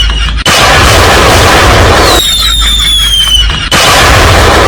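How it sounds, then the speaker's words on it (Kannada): Firecrackers burst at a celebration for a son-in-law: loud, close blasts and crackling fill most of the stretch, with a brief whistling, hissing interval between bursts. "ಅಳಿಯಂದ್ರ ಮೇಲೆ ಎಷ್ಟು ಗ್ರ್ಯಾಂಡ್ ಆಗಿ ಪಟಾಕಿ ಹೊಡಿತಾವ್ರೆ"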